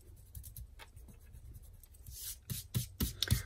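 Paper being cut by hand for a scrapbook memory project, a run of short scissor-like snips and rustles that grow louder and closer toward the end, with no voices.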